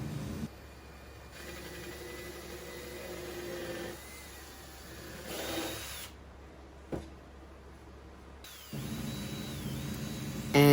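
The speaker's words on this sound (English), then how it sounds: "then drill a hole and the countersink" Power drill boring a hole into a wooden airplane propeller, several whirring bursts of varying length separated by pauses, close and moderately loud.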